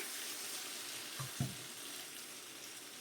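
Chicken frying in a pan without food colouring gives a faint, steady sizzle throughout, with a couple of soft low knocks near the middle and no talking.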